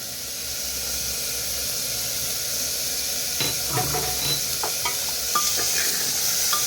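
Chicken stew ingredients fry with black pepper in a pan, a steady close sizzle and hiss running throughout, with scraping stir strokes starting partway through.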